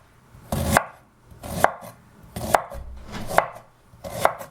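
A knife chops peeled fresh ginger on a cutting board in five evenly spaced, sharp strokes, each thud clear and close, with quiet pauses in between and no voices.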